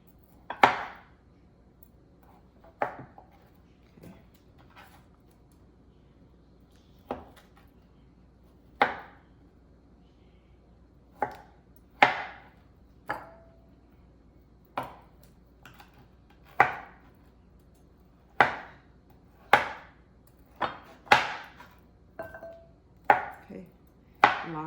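A knife chops vegan imitation shrimp into bite-size pieces on a cutting board for a vegan seafood gumbo. Sharp, close, distinct thwacks come one at a time at first and grow quicker and steadier toward the end, over a quiet background with no talking.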